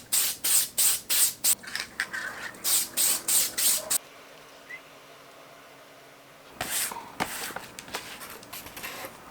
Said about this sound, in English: So I'm gonna be using some tacky spray.